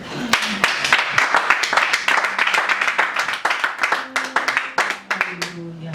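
A church congregation claps and applauds together during a Sunday worship service, a dense, steady wash of many hands with some voices mixed in throughout.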